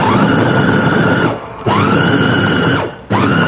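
A blender grinds raw chicken for nuggets in loud whirring bursts, two long runs cut by brief pauses where the motor stops and restarts, close and without talk.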